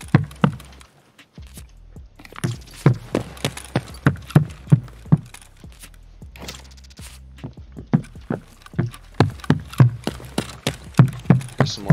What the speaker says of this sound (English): So I hear those footsteps, so I know there's somebody coming.